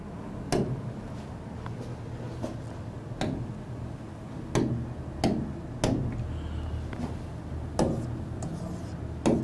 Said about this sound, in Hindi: इसको मैं यहां रब कर रहा हूं